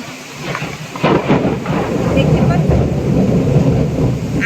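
Thunder during heavy monsoon rain, a deep rumble that swells after the first second and rolls on under a dense, steady hiss of rain.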